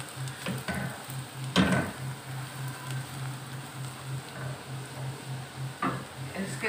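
Cumin seeds fry in a pan with a soft, steady crackle and sizzle, broken by a few sharper pops and stirring clinks, fairly quiet and without speech.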